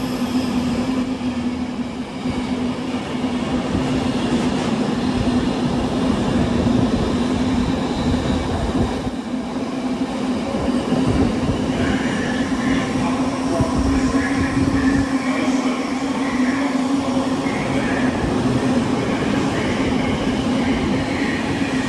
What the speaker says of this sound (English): here we have a freight going from Daventry to Moss End.